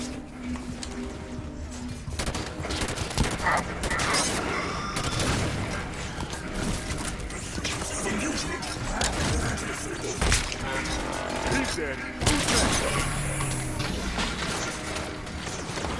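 Shotgun fire in Halo 5 during close combat, heavy bursts and crashing impacts packed densely over loud ongoing battle noise, with a faint voice underneath.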